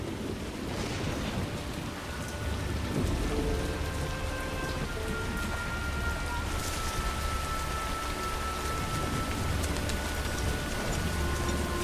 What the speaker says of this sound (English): We're just gonna stay here till the rain stops.